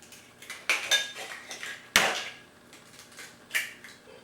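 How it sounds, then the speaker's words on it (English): Three eggs are cracked and dropped into a large bowl for a pineapple coconut cake, giving a few sharp knocks and clinks against the bowl, close and distinct, with quiet gaps between them. "all we need is 3 eggs here that I'm going to put in a large bowl"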